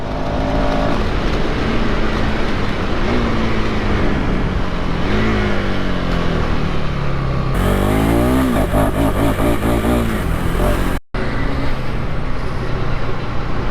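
A KTM 390 Enduro motorcycle engine under way, loud and close, rising and falling in pitch through gear changes with strong wind rush, a brief dropout near the end.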